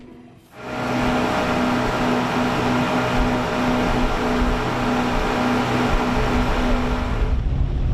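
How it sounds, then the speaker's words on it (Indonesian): A speedboat runs across open water from Belawan toward mangrove coast, its engine a loud, steady drone with a constant hum that starts abruptly and holds evenly throughout, with no talking. "Perjalanan ke sana harus kami tempuh menggunakan speedboat dari Belawan."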